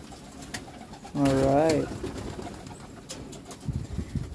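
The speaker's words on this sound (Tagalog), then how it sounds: "Nakauwi pa yung isa nating kalapati." A homing pigeon back at its loft gives a single clear, close coo over a faint background of rustling and small knocks, with someone speaking briefly.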